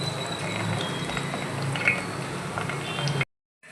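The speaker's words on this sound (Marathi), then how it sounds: "असा आवाज येतो ऐकायला, याला म्हणतात तुपाला फोडणी देणे" Hot homemade ghee sizzles with a few tulsi leaves dropped in, a steady close hiss that holds evenly for about three seconds, then cuts off abruptly.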